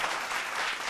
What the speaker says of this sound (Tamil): இன்னொரு கைத்தட்டு நம்ம கொடுக்கணும்